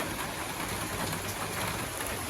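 Steady monsoon rain falls on a village home in the rainy season, a dense continuous hiss of drops drumming on surfaces, fairly close and even throughout with no voices.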